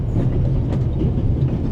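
A train rolls along in the video game The Raven: Legacy of a Master Thief, giving a loud, steady rumble of wheels and carriage noise with no voices over it.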